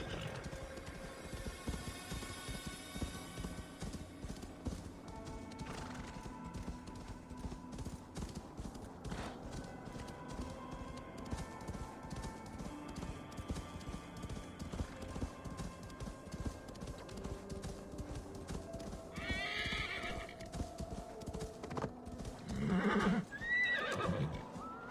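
Hooves clip-clop steadily at a gallop while a horse whinnies, with a louder neigh near the end, set against a busy backdrop in Assassin's Creed Valhalla.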